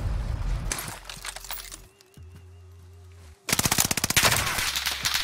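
Bursts of automatic gunfire from a Call of Duty-style multiplayer shooter, loud and rapid, with a quieter lull of droning game tones in the middle before another dense volley of close shots.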